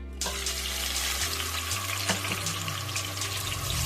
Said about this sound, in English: I'm gonna fry the shrimp in here in the oil